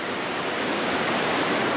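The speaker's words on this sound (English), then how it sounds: "a beautiful running pool of water right next to it" Water runs steadily beside a campsite on a section of the Benton MacKaye Trail, a close, even rushing wash with no breaks across the whole short stretch.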